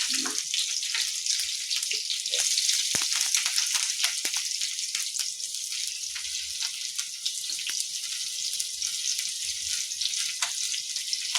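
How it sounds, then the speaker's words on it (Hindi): Three medium chopped onions hit hot oil in a pan and fry with a steady, hissing sizzle that holds evenly throughout, accompanied by occasional small clicks and pops, with no talking. "तेल हमर गरमा गेल, ओहिमे आब 3टा मध्यम आकार प्याज के काटि के दऽ रहल छी।"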